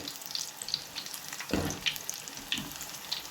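Drumstick leaves frying in hot oil on the stove: a faint, steady crackle and sizzle with scattered pops, and a brief louder surge as the food moves in the pan.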